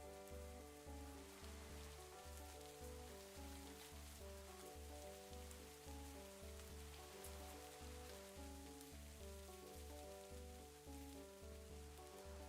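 Steady rain falls in Minecraft as a dense, even hiss of drops spread across the whole sound, continuous and unchanging, over a looping low musical background with a regular pulse.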